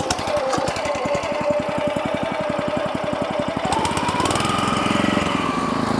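A rented topdresser machine runs on a lawn spreading material. Its engine throbs close and loud in a rapid, steady chug, then the pitch rises partway through as the machine works harder.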